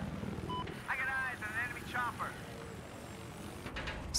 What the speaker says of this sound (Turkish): Stratosferin üstüne çıkmış helikopter, oradan adam vurmaya çalışıyor.